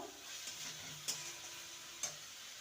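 Spices with Kashmiri chili powder sauté in a pan for a parwal and masoor dal dish, giving a faint, steady sizzle with a few soft spoon taps against the pan.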